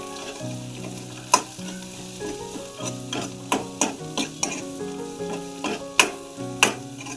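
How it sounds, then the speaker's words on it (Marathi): Masala sautéed into a drumstick curry sizzles steadily in a pan, with a run of sharp spoon-on-pot knocks and scrapes in a loose rhythm, close and fairly loud with no one talking. "आता हा मसाला आपण याच्यामध्ये टाकून देऊ हा याच्यात चांगला परतून घ्यायचा आहे"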